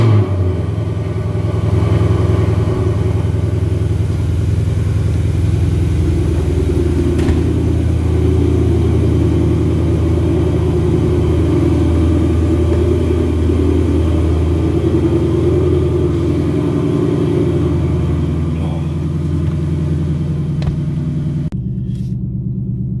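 A car running on E85 fuel idles on a cold winter day around 18 degrees, its steady low engine rumble loud and constant, then cut off abruptly near the end.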